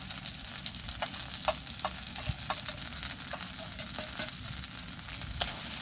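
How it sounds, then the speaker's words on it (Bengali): Turmeric and chilli powder fry in hot oil in a pan for a thin rohu fish and potato curry, making a continuous close sizzle dotted with small crackles and light stirring taps. "ভালো করে মিক্স করে কষিয়ে নেব।"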